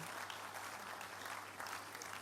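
A church congregation at a midweek communion service claps in dense, sustained applause, steady and somewhat distant, with no break.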